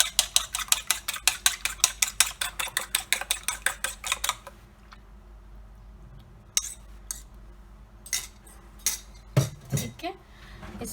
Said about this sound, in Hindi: इसको हम कर लेते हैं मिक्स अच्छे से अंडे के अंदर